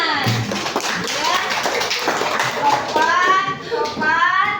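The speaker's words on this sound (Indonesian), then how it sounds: "Iya, tepuk tangan." Children in a primary classroom clap their hands in quick, fairly close bursts, with young voices chattering and chanting over the clapping.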